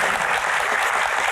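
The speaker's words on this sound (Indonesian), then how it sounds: "tepuk tangan buat Ferry" A studio audience applauds a guest on a talk show, a dense, even burst of clapping filling the whole short moment at a strong, steady level.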